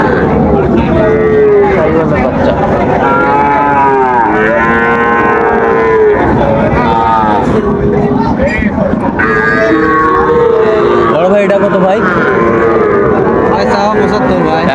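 Loud, repeated mooing from several young Sahiwal bull calves overlaps continuously at a cattle market, with people talking close by.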